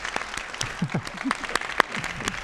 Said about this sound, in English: Have a round of applause for Lauren and Dan.